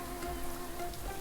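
Steady rain falls in the video game Little Goody Two Shoes, a soft continuous patter with no breaks across the short stretch.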